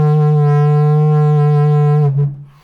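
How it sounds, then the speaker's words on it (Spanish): A Maya-style trumpet made from a maguey (agave) flower stalk is blown as one loud, sustained, buzzing low tone that drops off abruptly after about two seconds. "la trompeta de flor de maguey o de flor de agave"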